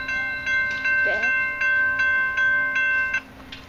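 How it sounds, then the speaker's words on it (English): A short metro train pulling out of a station with a steady tonal hum and a regular clacking beat of wheels over rail joints, with a brief voice in the middle. "Train leaving."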